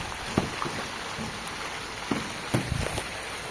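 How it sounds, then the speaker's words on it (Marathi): Light, steady rain falls on a rural village, a soft continuous patter with a few louder drips and splashes standing out near the start and toward the end. "सकाळीपासून पाऊस चालू आहे"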